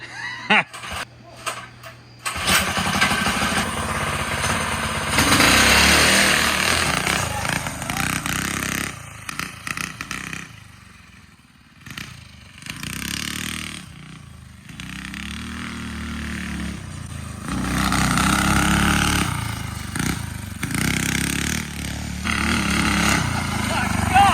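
A Manco Dingo go-kart engine rescued from a scrapyard is pulled over, catches and runs with a loud buzzing drone, dips briefly, then revs up again while people talk nearby.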